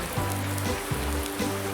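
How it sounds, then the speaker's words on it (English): Steady rain patters across the ground in Farming Simulator 19, a soft, even hiss with no other sounds over it. "it's raining."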